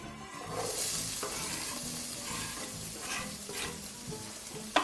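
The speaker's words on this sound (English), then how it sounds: "fry your onions for about 3 to 4 minutes, just to let them sweat out a little bit" Chopped onions fry in olive oil in a pan with a continuous gentle sizzle, with occasional stirring scrapes and a sharp utensil tap at the close.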